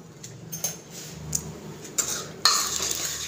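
Powdered sugar and milk being mixed into a paste for a homemade bread cake, with a spoon scraping and clinking against a bowl in soft, irregular strokes and a few sharper taps near the end.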